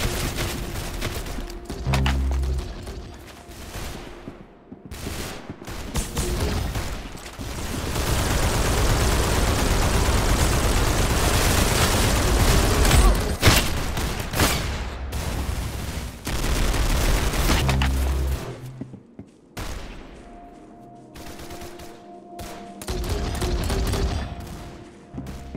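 Heavy gunfire in the Roblox shooter Arsenal, sustained bursts of loud, dense shots running through most of the stretch with brief lulls between volleys.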